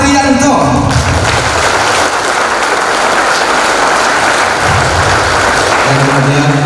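Sustained, loud, dense applause from an audience at a company event for its founder, steady and continuous throughout, with a voice speaking over the start and end.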